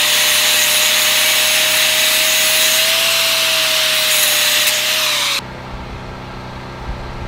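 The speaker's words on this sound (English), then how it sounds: "I need to cut maybe a million pieces of rebar like this." A power tool cuts steel rebar pieces for an elevated A-frame platform build, making a loud, continuous grinding rasp with a steady whine that stops abruptly near the end, leaving quieter background.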